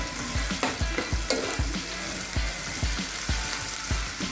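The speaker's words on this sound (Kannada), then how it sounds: "ಕ್ಯಾಪ್ಸಿಕಮ್ ಹಾಕೊಂಡು ಎಲ್ಲ ಫ್ರೈ ಮಾಡ್ಕೊರಿ ಚೆಂದಗೆ" Capsicum frying in a pan for kaju masala sizzles loudly and steadily, broken by regular rhythmic scrapes and taps of a spatula stirring every half second or so.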